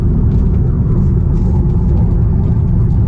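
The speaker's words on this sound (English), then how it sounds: "the car is now driving itself through this left turn" A Tesla steering itself through a left turn on a city street, heard from inside the cabin as a steady low road rumble and whir that stays even throughout, with no talking.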